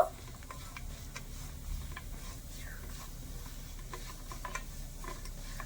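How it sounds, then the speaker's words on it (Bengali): Grated coconut frying in ghee over a low gas flame, stirred steadily with soft sizzling and light scraping ticks. The sound stays close and constant, with no talking. "চার টেবিল চামচের মতন কোরানো নারকেল গ্যাসের আঁচটা হালকা রেখে নেড়ে ছেড়ে একটু ঘিয়ের সাথে ভেজে নেব"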